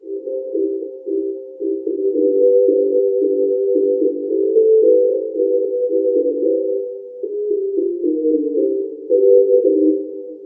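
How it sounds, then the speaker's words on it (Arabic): A narrow, boxy band of low-mid tones, music filtered to 300 to 500 Hz, carries a melody, thin and hollow like music heard through a tube, playing steadily without pause. "وده صوت في المنطقة ما بين 300 زبزبة في الثانية إلى"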